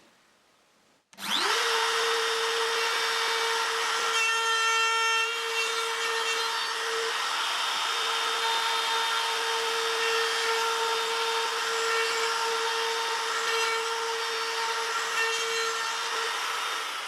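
A plunge router cuts half-blind dovetail sockets through a dovetail jig, a loud steady high-pitched whine starting abruptly after a second of quiet and running continuously to the end, with no talking.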